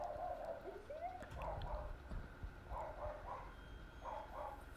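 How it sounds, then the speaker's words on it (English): A dog barks in short repeated bursts of two or three yaps, a whimpering whine between them, faint and somewhat distant over low background noise. "this dog's just staring there, barking at nothing"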